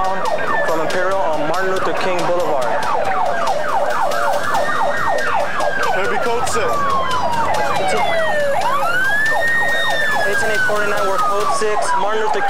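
Several police car sirens wail and yelp at once during a police chase, overlapping rising and falling tones, very loud and continuous, with a voice faintly under them.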